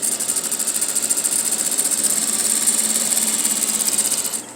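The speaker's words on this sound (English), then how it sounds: "We're going to back tack and then sew forward." A sewing machine stitches a half-inch welt seam through two pieces of fabric, back tacking and then sewing forward with a steady, rapid mechanical hum close by, stopping abruptly at the end.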